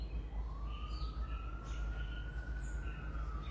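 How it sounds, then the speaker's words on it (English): Distant emergency vehicle siren holds a long, slowly rising and falling wail across a low background rumble, faint and far away, with bird chirps scattered around it. "Sirens."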